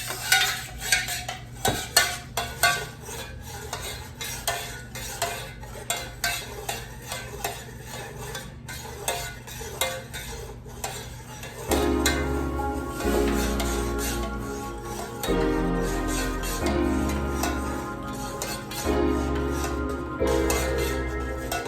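Melted candle wax is stirred in a container, giving a rhythmic series of close scraping and clinking strokes that later continue beneath steady background music.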